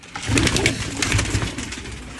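Female pigeons coo continuously at close range, with soft, low, rolling calls that overlap, over a noisy background.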